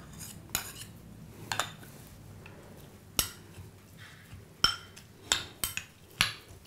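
A metal spoon stirring a tamarind, salt, chilli and jaggery mixture for Ugadi pachadi in a bowl, with irregular sharp clinks against the sides spread over a quiet background.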